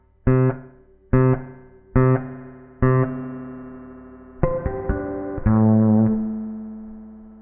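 Bass guitar run through a Ghost pedal's spring reverb: four separate plucked notes ringing out with a reverb tail, then a quicker cluster of notes and a sustained final chord that swells and decays, played alone without voices.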